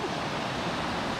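A small creek flows along a snowy trail in Sequoia National Park, giving a steady, close rush of water that holds constant through the short moment with no talking.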